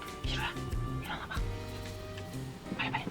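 A pet dog at home gives a few short barks and whimpers amid room noise, with people talking in the background.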